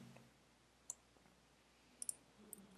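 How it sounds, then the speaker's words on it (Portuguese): A computer mouse button clicks faintly a few times in a quiet room, with a lone click followed by a quick double-click pair and then one more soft tap. "vou dar 2 cliques"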